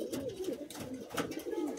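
A pair of Hablu high-flying pigeons coos steadily up close, a run of soft throaty burbles with no voices.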